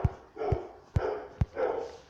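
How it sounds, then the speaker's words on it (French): A dog at home barks four times in an even rhythm, fairly close and moderately loud, with quieter murmuring noise between the barks. "Oh, désolé, ça, c'est mon chien."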